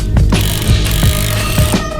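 A ratchet wrench loosens the 17mm bottom shock bolt on a Lexus IS300 during a coilover install, giving steady, close clicking strokes in a repeated back-and-forth rhythm throughout.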